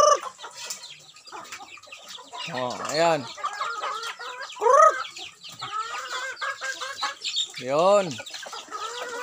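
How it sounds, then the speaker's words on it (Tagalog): Chickens clucking and squawking close by, several birds with rising-falling calls at irregular intervals, while a person speaks briefly. "Oh, ito mga alaga na aking mga"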